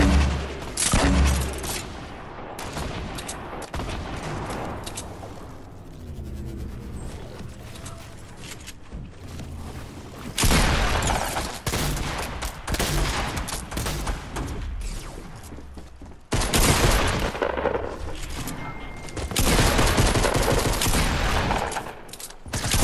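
Fortnite Battle Royale gunfire rattles in repeated rapid bursts, loud and near, alternating with quieter stretches of scattered shots and movement noise, with no voices.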